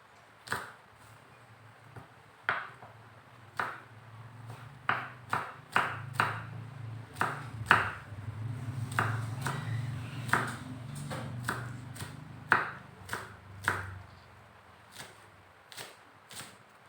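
A knife cuts through food on a board in a series of crisp, close taps, irregular at first and then quicker and steady, with no talking.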